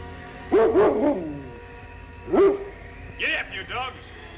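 Sled dogs bark and yelp in short bursts, with a few sharp barks followed by higher whining yips, moderately close against a quiet background.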